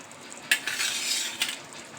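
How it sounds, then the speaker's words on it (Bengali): Prawns go one by one into a yogurt mixture in a hot pan, bringing two sharp bursts of sizzle and a short stretch of stirring and hiss, close and alone. "এবার দেখো একে একে চিংড়ি মাছগুলো দিয়ে দিচ্ছি।"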